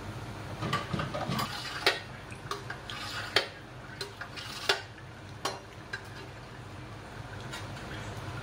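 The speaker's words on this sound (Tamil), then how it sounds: "போப்பியா நல்லா முருகலை பொரிஞ்சிருச்சு" Popiah rolls frying crisp in hot oil, a steady bubbling sizzle broken by sharp clinks of a utensil stirring and turning them in the pan, close and fairly loud with no talking.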